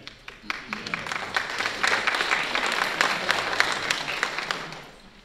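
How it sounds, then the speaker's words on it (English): An audience at a school board meeting applauds steadily, with dense clapping that holds for several seconds and fades at the end, heard from inside the room. "I think this guy deserves another round of applause"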